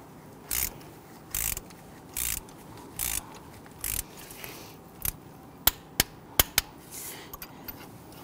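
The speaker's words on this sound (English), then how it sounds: "Now you want to go ahead and torque down your spark plugs to 13 foot-pounds." Torque wrench tightening spark plugs on a 2000-2006 Toyota Tundra 4.7L V8: five evenly spaced ratcheting bursts, then a run of sharp single clicks as the wrench reaches torque, close and alone.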